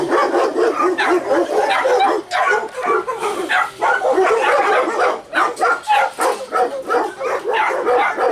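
Many shelter dogs bark and yip together outdoors in a loud, overlapping chorus, continuous and chaotic, with a faint voice somewhere beneath the din.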